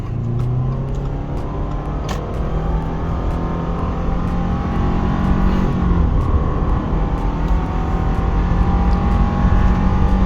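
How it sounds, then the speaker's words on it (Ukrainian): A 2018 Subaru Outback Limited 2.5 with automatic transmission revs and pulls hard accelerating uphill from standstill to 100 km/h, loud and continuous, the pitch climbing through the gears. "Зараз я спробую на ній придавити від нуля до сотні."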